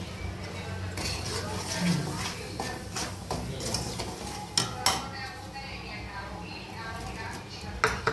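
A utensil stirs chili into broiler chicken pickle in a pot, with scraping and metallic clinks against the pan and a few sharper knocks near the end, while a voice talks quietly underneath.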